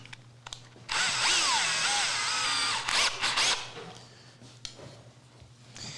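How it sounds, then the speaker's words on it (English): A power drill whirs loudly for a couple of seconds, its pitch shifting as it bores a centered hole into wood, then winds down to quieter handling noises. "as you push it in, it engages the drill bit and it gives you a perfectly centered hole"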